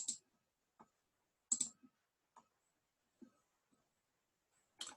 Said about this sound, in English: So I'll just click on these 3 important points and we have our stuff